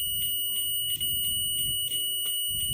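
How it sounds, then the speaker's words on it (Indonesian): A DT83B mini digital multimeter's continuity buzzer sounds while a cable is tested, giving a series of short, evenly spaced high electronic beeps, loud and close, alone without talk. "Buzzer ini biasanya digunakan untuk mengecek jalur kabel."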